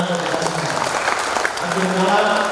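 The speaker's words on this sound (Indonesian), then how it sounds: "Tepuk tangan untuk kita semua." An audience applauds at a NasDem party branch inauguration ceremony, a steady wash of clapping throughout the hall. Music and an amplified voice carry over it.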